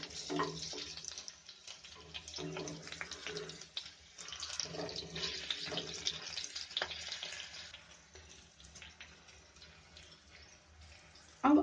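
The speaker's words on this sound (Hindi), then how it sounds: "छोटी इलायची, ये दालचीनी और हरी मिर्च डालेंगे। अब इसे थोड़ा सा फ्राई कर लेंगे।" Cardamom, cinnamon and green chili fry in a pan for spiced potato curry, a soft hiss and crackle with intermittent stirring clatter, fairly quiet and close, ending in a louder knock.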